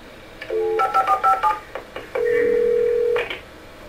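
A telephone in the Alan Wake video game is dialed: a quick run of DTMF key tones, then a long steady tone, loud and clean with no talking.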